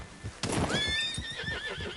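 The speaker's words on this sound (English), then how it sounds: "Hey, that's a nice-looking horse you have there." A horse in a PS4 video game gives a single bright, wavering whinny that rises and trills downward over about a second and a half, close and clear, with soft hoof clip-clops underneath.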